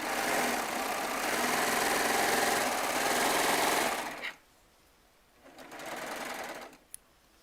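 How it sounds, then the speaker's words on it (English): Baby Lock Triumph serger stitching quilt rows together, a loud steady motor whir running continuously for about four seconds, then a short pause and a second brief burst of sewing, ending with a small click. "So now I'm going to sew these 2 rows I just finished together."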